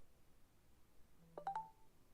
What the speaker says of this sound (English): I'm sorry about my phone